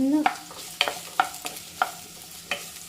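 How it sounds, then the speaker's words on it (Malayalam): Sliced onion sautés in a pan, a soft sizzle broken by about five sharp scrapes and taps of a spoon at a slow, uneven pace, close and alone. "ഇനി നമ്മൾ വാട്ടിയെടുക്കാൻ പോകുന്നത് സവാള കട്ട് ചെയ്ത് വെച്ചത്."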